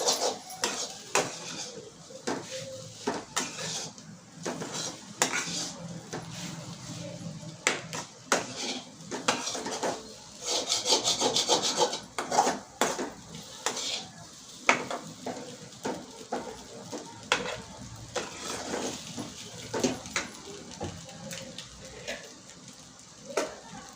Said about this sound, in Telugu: బాగా వేగేంత వరకు వేయించుకోవాలి